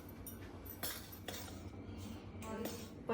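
A spoon stirs panjiri with black pepper in a bowl, giving a few soft scrapes and light metallic clinks against the bowl, quiet and close.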